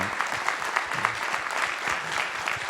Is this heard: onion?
no